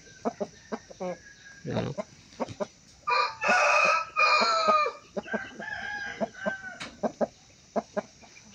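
Chickens on a backyard farm clucking in short repeated calls, with a rooster's loud crow rising in the middle, close by, while someone talks briefly.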